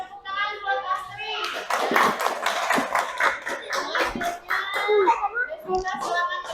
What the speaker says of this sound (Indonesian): kita beri tepuk tangan buat Astri